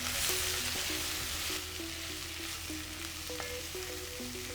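A Kerala stir fry of cooked jackfruit seeds, green mango and freshly grated coconut is stirred in a hot pan. A steady loud sizzle runs under repeated clinks and scrapes of the spoon.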